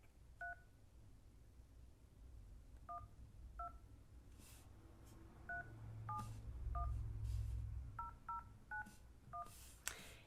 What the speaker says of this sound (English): I'm going to give him a call, and we'll show you how to call